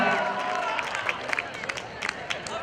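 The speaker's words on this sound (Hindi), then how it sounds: "एक बार जोरदार तालियां हो जाए" A college annual function audience breaks into loud, sustained applause, with dense clapping and scattered cheers and crowd noise throughout.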